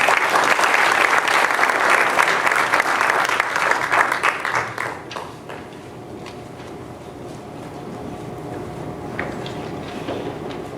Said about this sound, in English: Let's give another round of applause for these future soldiers.